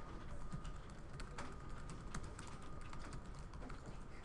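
Someone types on a computer keyboard, the keys giving off quiet, irregular clicks in a steady run against faint background hiss.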